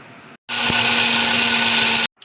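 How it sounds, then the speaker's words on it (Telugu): A kitchen mixer grinder whirs loudly and steadily for about a second and a half, grinding roasted spices into fine powder for a spicy chicken fry, starting and stopping abruptly. "ఇలా మిక్సీ పట్టుకోవాలండి"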